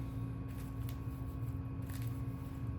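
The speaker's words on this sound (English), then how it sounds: "I'm just gonna shuffle" A Yu-Gi-Oh! trading card deck is shuffled by hand, giving a soft, steady riffling rustle that runs continuously and quietly, with no talking.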